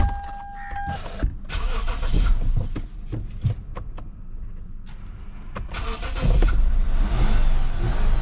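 A Dodge Jeep is started up close: a short whirring crank catches into a rumbling engine that revs and settles into a rough, uneven idle, loud and steady with no talk.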